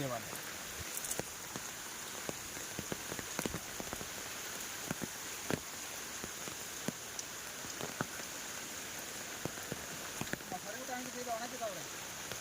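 Steady rain patters on a surface nearby, with scattered sharper drips ticking throughout and a faint voice briefly audible late on.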